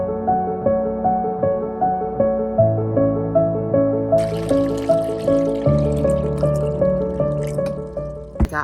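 Water poured into a glass, a close rising trickle with rhythmic glugging pulses as the level climbs, with no one talking over it.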